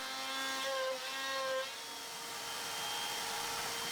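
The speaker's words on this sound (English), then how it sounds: "it's drilling my holes, in a technique called poking where it goes up and down a few more millimeters at a time until done" A home CNC machine pecks holes into a dining-chair workpiece, its motor whining with shifting tones that rise and fall as the drill plunges and retracts, a steady close hum carrying throughout.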